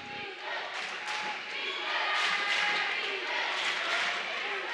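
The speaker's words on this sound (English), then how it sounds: "Redbird crowd showing some life here" A home crowd cheers steadily at a girls' high school basketball game between Metamora and Washington, with a commentator talking over the continuous roar.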